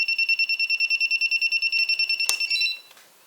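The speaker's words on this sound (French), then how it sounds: "les moteurs se sont arrêtés, et le buzzer s'active" A J-Mini drone's failsafe buzzer beeps in a fast, even series of loud, shrill pulses, nearly twenty in a row, then cuts off after a click.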